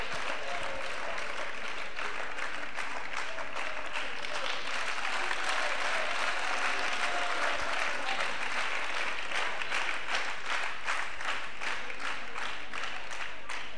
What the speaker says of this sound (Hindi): जोरदार तालियों के माध्यम से स्वागत करेंगे।